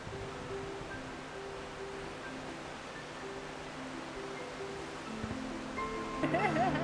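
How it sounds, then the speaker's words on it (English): Seawater rushes through Seashell Inlet in a steady, full-bodied roar that holds without a break, with faint tonal sounds and a slight swell in loudness near the end. "all those billions of gallons of water have to rush through this little area"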